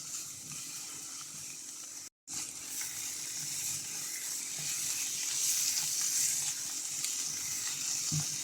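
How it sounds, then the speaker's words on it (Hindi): Spices sizzle and fry in hot oil in a pan for a tandoori chicken tikka masala, a soft continuous hiss with a brief dropout and occasional faint stirring clinks. "मसालों को 1 से 2 मिनट मसालों से तेल सेपरेट होने तक भूनेंगे"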